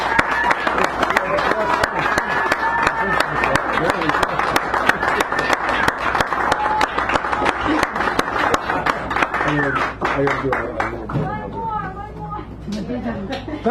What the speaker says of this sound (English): Give them both another round of applause